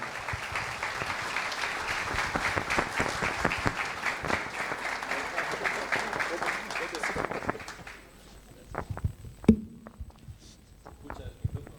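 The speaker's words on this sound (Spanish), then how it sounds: "Un aplauso para él." Audience applause for a national senator at a book presentation during a radio station anniversary event, dense clapping for about seven seconds that then breaks off into scattered claps, shuffling and a few voices.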